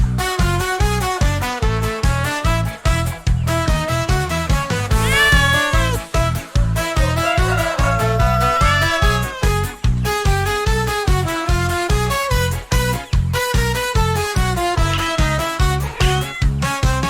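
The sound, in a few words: cat meowing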